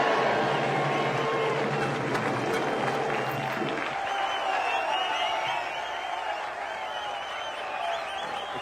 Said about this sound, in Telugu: ఈలలు గోలలు